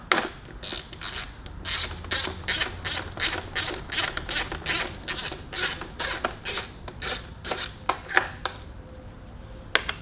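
Ratchet wrench working 3/16 Allen head bolts on a 2019–2020 Harley-Davidson Electra Glide Standard, a long rhythmic run of raspy clicking strokes, close and steady, slowing toward the end.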